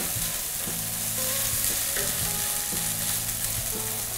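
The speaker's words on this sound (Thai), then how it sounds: "ใช้ไฟอ่อนๆหน่อยนะคะการผัดพริกแกงเนี่ยก็จะทำให้ตัวพริกแกงเนี่ยหอมมากขึ้นนะคะ" Red curry paste stir-fries over low heat, a continuous close sizzle with repeated scraping strokes of a spatula against the pan and no voices.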